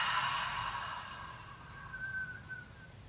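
A slow open-mouthed exhale during a yoga stretch for period pain, heard as a soft, breathy sigh with a faint whistly tone that fades over about three seconds, close and quiet.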